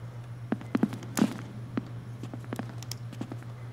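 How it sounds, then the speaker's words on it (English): Footsteps behind a closed door in the horror game Becrowned come as a handful of soft, irregular thuds over a low steady hum, faint and muffled as if in the next room. "I can hear someone's footsteps on the other side of the door"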